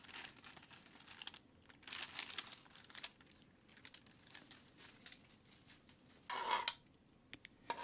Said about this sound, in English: Take off the greaseproof paper carefully.